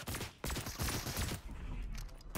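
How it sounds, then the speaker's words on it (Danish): Dense bursts of rapid gunfire in Fortnite, loud and overlapping, with several distinct shots cracking through a continuous rattle. "Skud til mig."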